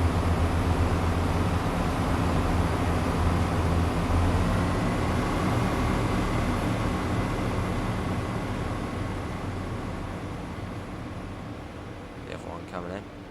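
A Class 170 Turbostar diesel train runs steadily in Train Sim World, a constant broad rumble and hum that slowly fades toward the end, with someone talking over it.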